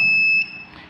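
A voltage tester sounds a steady, loud, high-pitched electronic beep that holds briefly and then cuts off, leaving faint room noise.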